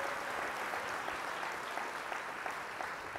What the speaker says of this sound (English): Another round of applause for Edward and all his hard work.